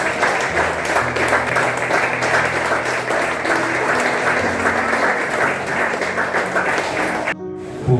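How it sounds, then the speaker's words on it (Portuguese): A church congregation applauds while standing, a dense, steady wave of clapping with low musical tones underneath, loud and sustained before cutting off abruptly near the end. "vamos aplaudir o Senhor Jesus"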